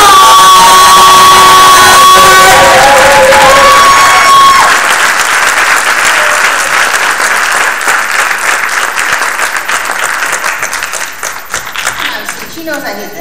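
Loud audience applause at a youth poetry slam event in Jacksonville for the event organizer, dense clapping that swells and then gradually tapers over several seconds, with a voice speaking over the start.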